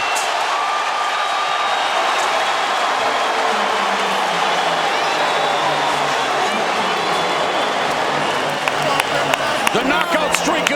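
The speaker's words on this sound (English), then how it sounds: "The crowd at Staples Center enjoying what they've seen." A large arena crowd at a Staples Center boxing match cheers and applauds in a steady roar, with an announcer talking over it.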